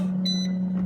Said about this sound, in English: there was the final beep.